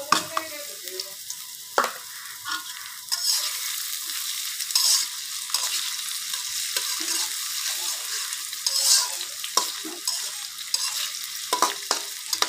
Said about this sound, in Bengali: পেঁয়াজ কুচিটা ভাজা হওয়া পর্যন্ত অপেক্ষা করছি।